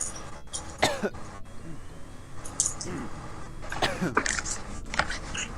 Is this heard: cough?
yes